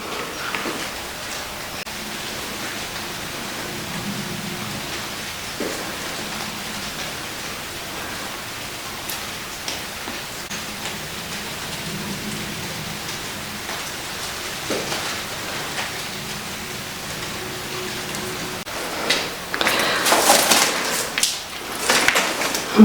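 Steady rain falling outside a house, a soft continuous hiss with faint drips, growing louder and more splashy near the end.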